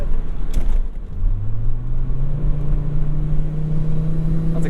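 A C70 T5-swapped Volvo 850R revs hard in a low gear, a loud, steady engine drone rising in pitch with a rumbling exhaust and occasional pops, heard from close by.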